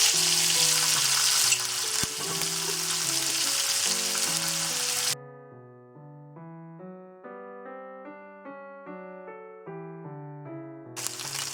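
Garlic and ginger sizzle in a hot pan for about five seconds, a loud broadband frying hiss that cuts off abruptly, leaving quieter tonal sounds before the sizzle briefly returns at the end.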